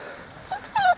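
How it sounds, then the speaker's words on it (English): A dog gives a couple of short high whimpers near the end, the louder one last, against faint outdoor background on a campsite pitch where dogs run free. "There's the private pitch, where the dogs can run free."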